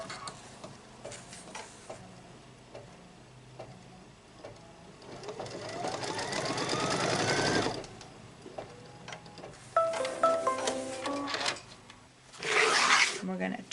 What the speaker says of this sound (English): So here it says stitch the piece 3 trimming placement line.